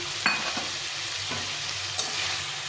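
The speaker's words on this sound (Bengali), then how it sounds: "এখানে এক মুখ ছোলা আছে দিয়ে ভালো করে একটু কষিয়ে নিতে হবে" Overnight-soaked chickpeas and papaya sauté in a pan, a constant soft sizzle with a few sharp spoon clinks and stirring scrapes, close by and alone.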